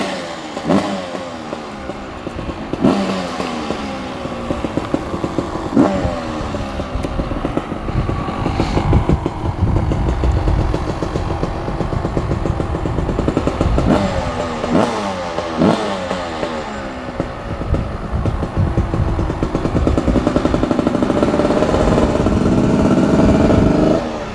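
A two-stroke dirt bike engine runs nearby, loud and rough, with repeated revs rising and falling over a steady clattering idle and no talking.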